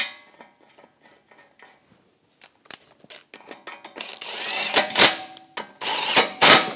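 A ratchet clicks rapidly while bolts are snugged down on the air intake splash shield of a 2014-2018 GMC Sierra, with close, bursty metallic clicking that grows louder and denser toward the end.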